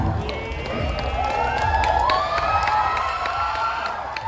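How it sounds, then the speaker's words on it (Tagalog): A crowd at a live comedy show during the 50th Sinulog festival in Kabankalan City cheers and shouts steadily, with a rising squeal of voices near the middle and scattered claps throughout. "gusto namin marinig ang mga sigaw o palakpakan na dalang hiyawan"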